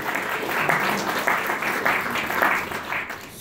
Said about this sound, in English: Let's give them a strong round of applause.